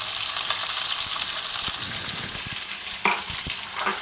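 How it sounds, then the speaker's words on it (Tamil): Sliced big onions sizzle steadily in a hot oiled pan for poori masala, with close bright frying crackle throughout and a few clinks of a spoon stirring, no voices. "அடுத்தது நம்ம பெரிய வெங்காயம் சேர்த்துக்கலாம்"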